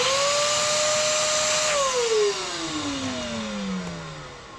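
Vacuum cleaning around the oil drain plug of a Honda TMX 125 motorcycle, a loud close whine that holds steady, then drops in pitch as the motor winds down, with no speech.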